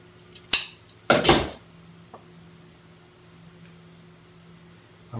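Scissors cutting excess welting fabric from a Roman shade: two quick metallic snips, the second a longer double crunch, then a faint tick, over a quiet background hum with no speech.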